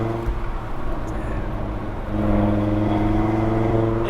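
An 800hp big-turbo stage 5 Audi TT RS pulls hard. A loud, steady engine drone is heard from inside the car and climbs in pitch and strength about halfway through as the car accelerates.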